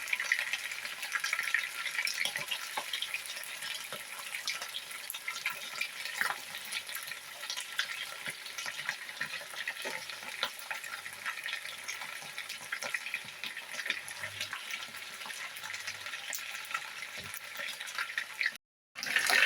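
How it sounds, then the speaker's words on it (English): Steady crackling sizzle of chicken frying in a pan for seafood paella, continuous and moderately loud, with a brief silence near the end. "While still frying the chicken,"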